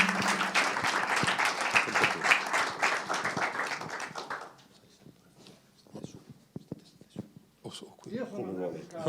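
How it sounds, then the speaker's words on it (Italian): Applause from an audience at an Italian film retrospective greets two guests, a dense burst of clapping for about four seconds that then stops, leaving scattered taps and rustles and a few faint murmurs. "vi prego di accogliere con un grande applauso Andrea Piccardo e Federico Rossin"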